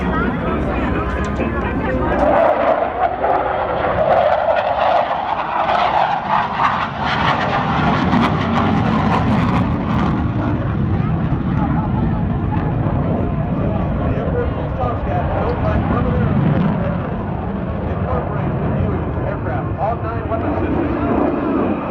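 A Navy F-14 fighter jet roars loudly overhead at the NAS Oceana air show, its engine noise sweeping and rumbling continuously while a crowd murmurs and an announcer talks in the background.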